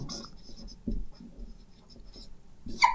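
Pen writing on paper while working a geometry problem: quiet, intermittent scratchy strokes near the mic, with a slightly louder scribble at the end and no voices.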